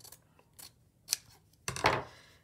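Scissors snip through a piece of material in a few short, crisp cuts, with a louder, longer slicing cut at the end; close and fairly quiet, with no talking.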